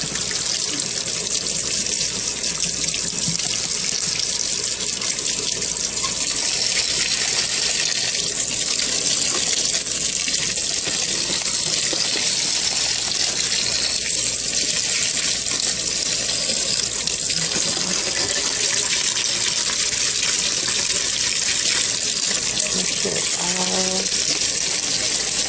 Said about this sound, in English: And now we're going to run it underneath the hot water.